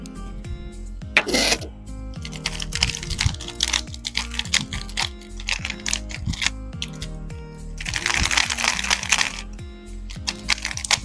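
Rapid plastic clicking and clacking of a Moyu Weilong WRM v10 20M Ballcore speed cube being turned, in quick irregular bursts, close and fairly soft, with bursts of louder rattling.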